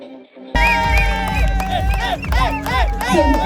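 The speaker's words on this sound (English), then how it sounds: "let's keep cheering with a big round of applause all our amazing runners, the winners of today's run." Crowd at a marathon finish cheering and shouting for the race winners, loud and close, with whistles and rising voices over steady babble after a brief quiet start.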